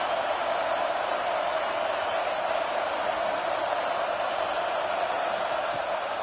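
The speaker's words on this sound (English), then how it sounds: "Here comes the noise from this big crowd in Happy Valley on third down." Big college football stadium crowd at Penn State's Happy Valley roaring on third down, a steady, dense wall of noise held at an even level throughout with no clear breaks.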